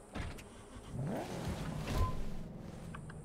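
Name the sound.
car driving in video game Cyberpunk 2077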